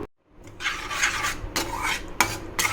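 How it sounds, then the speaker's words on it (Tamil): A spoon scrapes and stirs a creamy, cheesy pasta sauce with chilli flakes in a pan on a simmering stove, with close, continuous swishing strokes and occasional clinks against the metal. "இதை ஒரு 1 மினிட் நம்ம மிக்ஸ் பண்ணி விடலாம்."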